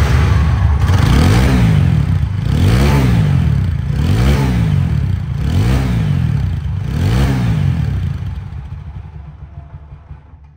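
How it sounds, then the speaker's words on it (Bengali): A used motorcycle for sale in Bangladesh is revved repeatedly up close, with five or so rising and falling engine swells in a steady rhythm before the sound tails off into quieter idle. "বাইকটির সাউন্ড কোয়ালিটি শুনলে আরও অবাক হয়ে যাবেন"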